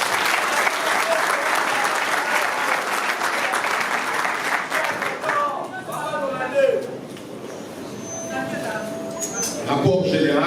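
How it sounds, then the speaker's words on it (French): Vigorous applause fills a hall at a political party congress, loud and dense for several seconds before thinning into scattered claps, while people talk and murmur over it in the latter half. "issu du congrès sous vos applaudissements"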